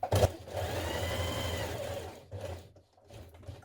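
A sewing machine stitches a 1.2 centimetre seam around the outer edge of a shirtdress collar in a short, close, steady whir that stops after about two seconds, followed by faint handling sounds.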